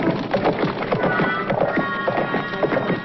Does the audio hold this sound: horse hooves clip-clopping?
yes